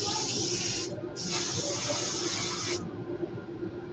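An airbrush spray paints the tail of a fishing lure, two sustained bursts of bright, close hiss separated by a brief gap, then the spray cuts off leaving quieter background noise.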